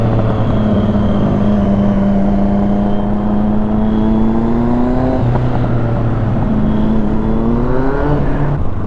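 A 701 motorcycle engine held at a steady high rev while riding, a strong continuous whine that dips briefly and climbs again, loud and close with no talk over it.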